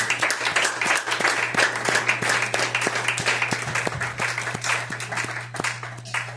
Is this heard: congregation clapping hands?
yes